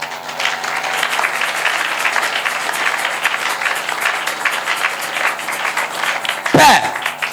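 Sustained applause from a church congregation acclaiming Jesus at a night worship service, steady and moderately loud throughout with voices mixed in, ending in a sharp thump near the end.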